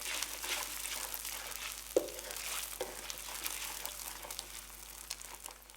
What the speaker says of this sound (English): Blend the eggs through the chilli paste and oil until they start to cook through.